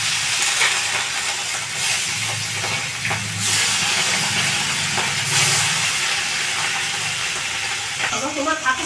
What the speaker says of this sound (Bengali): বাকি মাছগুলো আবার এইভাবেই ভেজে নেব।